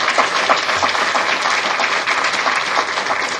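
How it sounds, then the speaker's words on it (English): Sustained audience applause at a community candidate forum run by a citizens' association, a dense even wash of many hands clapping without pause. "I'd like to ask everybody to give our candidates a round of applause"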